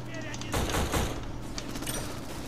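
AK rifle fire in a shooting video game: a short burst of rapid shots followed by a few scattered single reports, fairly faint beneath a steady background hum.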